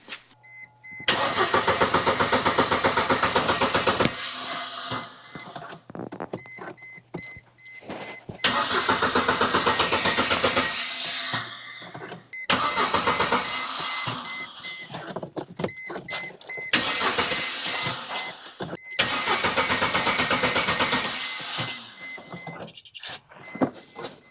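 A 1998 Mercedes-Benz C230 with no fuel pressure cranks repeatedly without catching, the starter whirring loud and close in four long attempts with quiet gaps between them.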